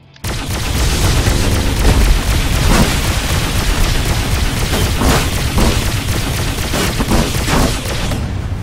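A missile blast in the video game Descent: Underground: loud, dense, sustained roaring explosions and crackling bursts filling the whole stretch, layered with game effects.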